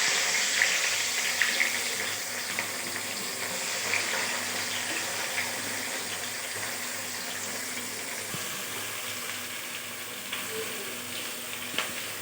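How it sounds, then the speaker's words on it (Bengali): Steady, even sizzling of onions frying in hot oil with a bay leaf and whole spices, a constant hiss with small crackles, close and unbroken throughout, with no talking. "তেজপাতা দিয়ে এবার আমি পেঁয়াজগুলো দিয়ে দেবো।"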